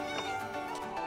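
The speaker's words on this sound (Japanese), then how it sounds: "猫がさ、もうプラス2体いるよね" Cats meowing in the video game Minecraft, several repeated mews layered over a steady game background, fairly close and continuous for about a second with no talk.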